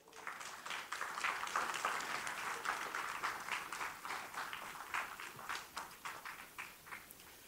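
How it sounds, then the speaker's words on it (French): A church congregation claps for the Lord during a French-language sermon, quiet and fairly distant, the clapping steady and dense with rhythmic surges rising and easing. "Applaudissons pour le Seigneur."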